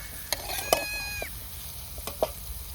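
Soybeans frying in oil in a pan while a spoon stirs them, a soft steady sizzle broken by a few sharp scrapes and clinks, with a thin high squeak near the start.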